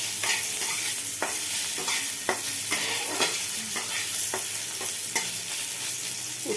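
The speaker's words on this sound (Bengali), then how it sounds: "এবার আমি দেখো এই উচ্ছে দিলাম, উচ্ছেগুলোকে ভাজলাম" Bitter gourd pieces fry in a pan with a constant sizzle, while a spatula scrapes and knocks against the pan in frequent, irregular strokes.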